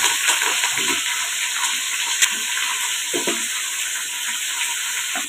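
Green chilies and onions sizzling in hot oil for white khushka made with bullet rice, a steady loud hiss of frying that holds through the whole stretch, with a few soft clinks and stirs in the pan.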